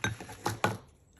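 Scissors make three quick, crisp snips trimming a handmade paper towel bead, close and fairly quiet with no talking.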